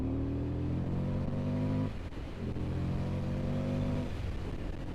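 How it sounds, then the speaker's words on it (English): Motorcycle exhaust while riding on an open road: a steady engine drone with a brief dip near the two-second mark as the throttle eases, then the tone builds back up and holds. "That'll get some good footage of this exhaust. Sounds brilliant."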